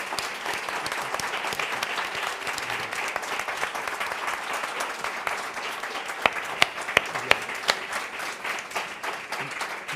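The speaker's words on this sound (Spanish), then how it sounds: "por favor, un aplauso muy grande." An audience at a Spanish-language literary essay talk claps in sustained, even applause for about ten seconds, with a few sharper individual claps standing out near the end.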